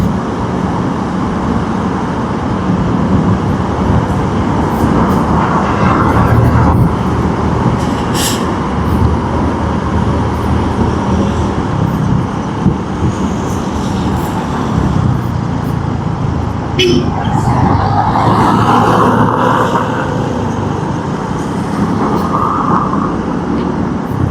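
Steady rumble of an MRT metro train rolling along rails, continuous and fairly loud, with occasional squeals and clanks, no talking.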